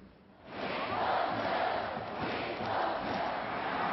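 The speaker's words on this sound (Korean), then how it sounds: "환호하고 춤추고 최근 우리 야구장의 풍경들입니다" A large crowd of fans at a Korean professional baseball stadium during the 2012 All-Star Game swells into a loud, sustained roar of cheering and chanting that holds steady after a quieter start.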